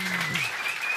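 Applause from an audience at a startup event welcomes a speaker to the stage, a dense wash of clapping held steady throughout the second, with a faint voice briefly underneath at the start.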